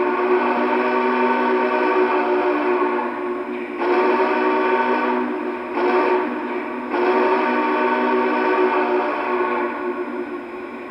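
A Lionel Vision Line 2018 Challenger model train sounds its whistle, a loud sustained chord-like steam whistle blown in several long blasts with brief dips between them, echoing slightly in a room.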